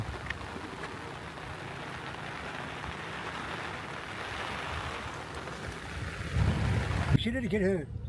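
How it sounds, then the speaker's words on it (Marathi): Steady heavy rain hisses throughout, broadband and dense, with a louder rumble and some water movement toward the end. "पाऊस जोरातच दिलो"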